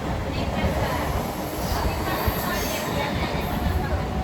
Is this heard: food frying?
no